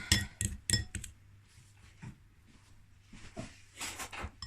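Spoon clinking and scraping in a bowl while mixing mascarpone, a few quick metallic taps at first, then softer scrapes and knocks, close and quiet, with faint voices nearby.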